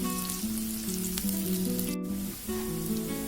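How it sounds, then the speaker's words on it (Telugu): Thinly sliced small onions frying in hot oil in a pan for a pepper mutton fry, steady close sizzling with tonal hiss throughout. "ఆనియన్స్ బాగా ఫ్రై అవనిద్దాము"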